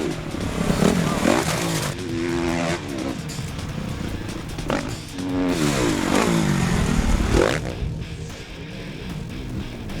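A 2013 Kawasaki KX250F dirt bike engine revs hard and repeatedly, rising and falling in sharp throttle sweeps, loud and close, with a mechanical clatter underneath and no speech.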